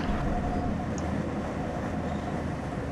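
A steady low rumble of a train in motion toward Bordeaux in the Médoc, France, heard from inside with a constant rolling drone and no speech.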